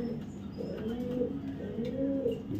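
Two top-quality racing pigeons, one a white male, give soft, repeated throaty coos close by, with faint background noise around them.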